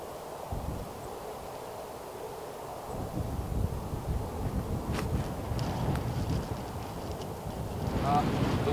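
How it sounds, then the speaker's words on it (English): Steady wind gusting across an Arizona golf course at Pinewood Country Club, a broad low rumble of buffeting against the microphone that swells partway through, with a person talking over it. "The wind just shifted into me, but I still think it's a good club."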